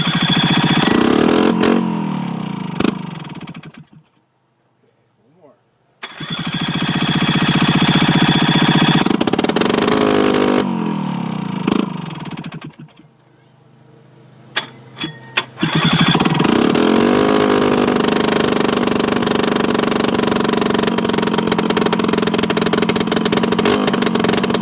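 An Inviter water pump engine runs loud and close, cutting out and restarting several times with coughs and sputters before settling into a steady, harsh unmuffled roar.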